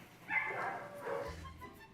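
A dog at an animal control shelter gives a couple of short, muffled barks and yips, fairly distant and faint against a quiet room background.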